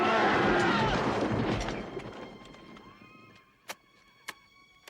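Horses neighing in a desert battle scene: a loud shrill whinny with a noisy clatter of hooves and commotion that fades away, followed by a few sharp isolated ticks and knocks in near quiet.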